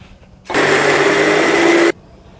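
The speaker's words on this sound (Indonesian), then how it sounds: "Kita blender bumbu-bumbunya, ada bawang merah, bawang putih, cabai rawit, dan cabai merah besar." Kitchen blender grinding shallots, garlic, bird's-eye chilies, large red chilies and candlenuts into a spice paste, a loud steady whirring motor that starts abruptly, runs about a second and a half, then cuts off.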